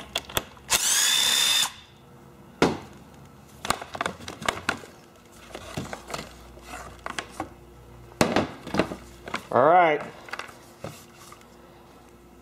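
A cordless power drill whines in short bursts while backing screws out of a STIHL chainsaw handle, with clicks, rattles and handling knocks between the runs and one rising-pitch spin near the end.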